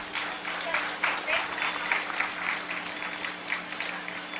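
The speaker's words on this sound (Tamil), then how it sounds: "ஒரு நல்ல பலத்தை கைத்தட்டு கொடுங்க." An audience at a Tamil comedy speech event applauds, a steady wash of clapping from many hands that stays moderately loud throughout, with voices mixed in.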